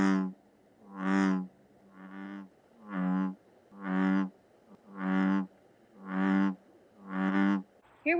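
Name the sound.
bullfrog croaking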